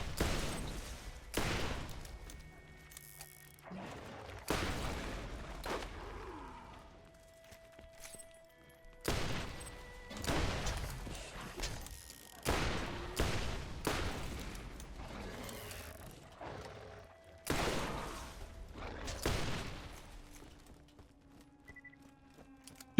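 Player gunfire in the video game Borderlands, fired against skags: bursts of loud, sharp shots come in clusters separated by quieter gaps, each volley ringing out briefly with some low thumps between.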